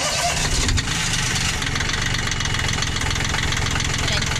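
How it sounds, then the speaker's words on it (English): A sailboat engine, clogged and being flushed with acid, runs at a steady idle after starting, a continuous low chugging rumble close by with a brief louder burst near the start. "Is your engine gonna start?"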